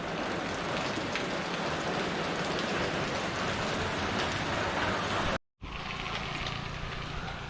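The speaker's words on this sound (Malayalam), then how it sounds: "ഇപ്പോൾ നല്ല മഴയുണ്ട്, ഇവിടെ കയറി നിൽക്കുകയാണ്." Heavy rain pours down at a roadside shelter in Kerala, a dense, loud and steady roar of drops on surfaces, broken by a brief cut before continuing.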